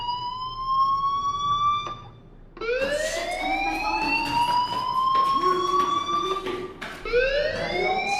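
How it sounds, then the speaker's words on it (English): A fire alarm in the video game Life Is Strange wails in rising, sweeping tones that repeat loudly and continuously, with short breaks between the sweeps. "Hey, do you hear that fire alarm?"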